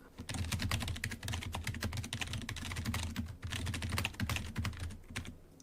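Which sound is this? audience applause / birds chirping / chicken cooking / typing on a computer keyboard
typing on a computer keyboard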